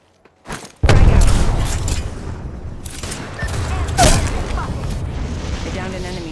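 A frag grenade explodes in a video game: a sharp, loud blast followed by rumbling debris and a second burst, with gunfire-like crackle trailing off over several seconds.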